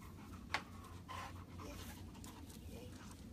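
A dog pants steadily and rhythmically at close range, quiet but continuous, with a brief sharp click early on and no talking.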